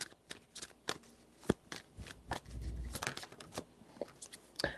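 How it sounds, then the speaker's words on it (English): Tarot cards are given a quick shuffle, heard as a quiet run of crisp, papery riffles and flicks in irregular bursts, close by and alone. "I'm just going to give this a quick shuffle."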